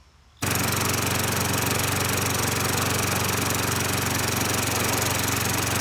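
A Craftsman push lawn mower with a Tecumseh 5.5 engine starts up and runs at a steady, loud, rough chugging drone, continuing without pause to the end.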